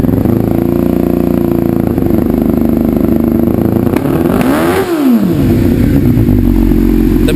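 A 2000 Suzuki GSX-R 600 motorcycle with a worn-out motor revs wide open, a loud, sustained roar with a sweeping rise and fall in pitch midway, close up and with no talking.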